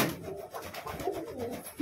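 Domestic pigeons coo softly and close by while being fed in a loft, a few low rolling coos in quick succession.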